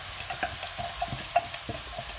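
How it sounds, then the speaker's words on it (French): Onions frying in about half a glass of oil in a pan, a steady low sizzle with faint scattered pops and light clinks close by, no voices. "vous mettez les oignons dans une poêle. Un demi verre d'huile. Et vous laissez mijoter."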